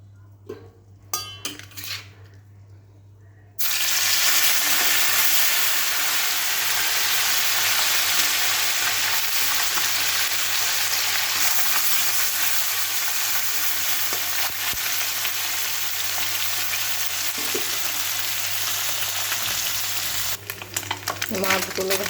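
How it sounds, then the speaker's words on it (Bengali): Fish pieces frying in a generous amount of hot oil, a dense, continuous loud sizzle that starts abruptly after a few seconds of quiet kitchen clatter and runs steadily close by, with faint utensil clinks near the end. "মাছগুলো ভাজা হয়ে গেছে,"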